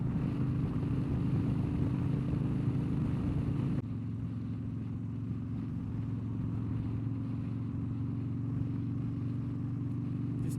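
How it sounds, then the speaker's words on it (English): A vehicle cruises along a highway at 70 mph behind semi trucks, a steady low engine and road drone with wind rush that drops noticeably partway through and then holds constant. "Just chilling on the highway, man. 70 miles an hour."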